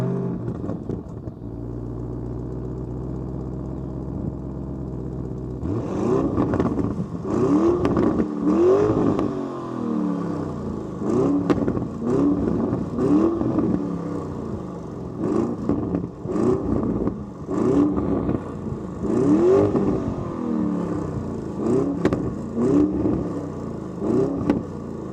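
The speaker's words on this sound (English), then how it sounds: "now it's time to start up the engine of this Lamborghini Urus S, 666 horsepower. We will be starting it up in Corsa" A 666-horsepower Lamborghini Urus S starts up in Corsa mode after a low idle, then its engine roars through repeated sharp revs, loud and close throughout.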